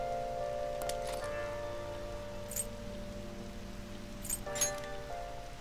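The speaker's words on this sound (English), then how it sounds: "Since it's still raining. It's so wet out." Soft, steady rain falls in the Persona 5 video game, a faint patter with occasional light chimes and clicks from the game's ambience.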